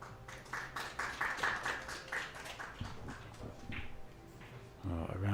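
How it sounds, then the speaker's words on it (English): Applause from an audience at a professional pool match, a steady patter of many hands clapping at moderate distance that rises and fades over several seconds, with a commentator's voice talking over it. "Oh, a round of applause."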